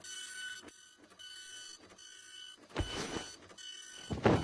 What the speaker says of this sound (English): Maybe your snoring will drown out the sound of that dang printer.